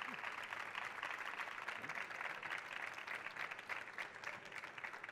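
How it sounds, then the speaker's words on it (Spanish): Audience applause at a panel event on art and the senses, a steady wash of many hands clapping, fairly faint and distant, sustained throughout with no talk over it. "Venga, un momentito de aplauso."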